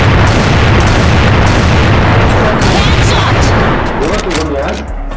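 A grenade goes off in a video game with a loud, booming, broadband blast that rolls on as a dense, sustained rumble for several seconds before easing slightly at the end.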